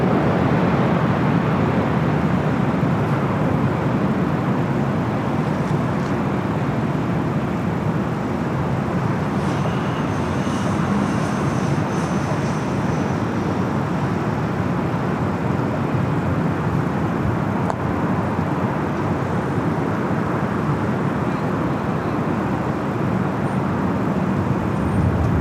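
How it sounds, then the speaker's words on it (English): An Aeromexico Dreamliner rolls down runway 24 left at LAX, a continuous broad jet roar heard from a distance, steady and loud for the whole stretch, with no talking. "Mexico Dreamliner, rocking and rolling down to 24 left."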